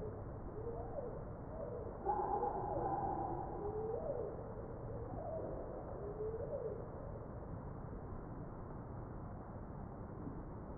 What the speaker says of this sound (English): Another familiar bird is laughing dove which is also seen in good numbers in and around human habitation even at the cities.